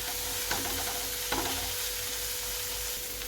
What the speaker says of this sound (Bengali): এবার আমি ভালো করে ভাজা করে নিচ্ছি এগুলোকে